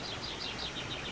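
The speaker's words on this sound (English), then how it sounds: "the sound of the birds." Faint birds chirp outdoors in a quick run of repeated high tweets over a soft background hiss.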